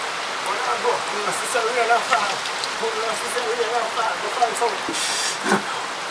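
Steady rain patters on a hard surface close by, with occasional louder splashes and drips over the continuous hiss.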